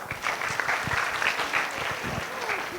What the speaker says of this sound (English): Can we It have a may round go of bad. applause?